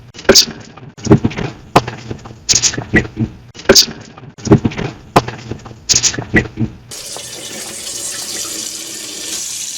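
Water poured in short repeated bursts into an outdoor kettle fountain, six or seven splashing pours with brief pauses, then a steady continuous trickle of running water, fairly loud and close.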